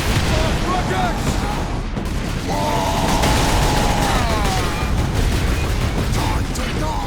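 Rocket fire and explosions in Warhammer 40,000: Space Marine, a steady barrage of booming blasts and gunfire with a whistling projectile streak, loud and continuous, while voices shout over the battle.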